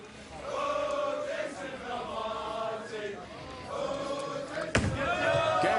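A raucous crowd cheers and roars at a PBA Tour Finals bowling event in Bethlehem, a sustained loud wash of voices with a sharp thud or pin strike near the end.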